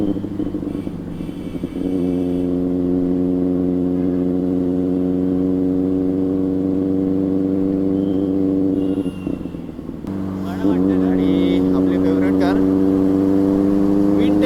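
Steady engine drone of vehicles idling and moving in traffic, close and loud, with a brief break before the rumble resumes with added rattling.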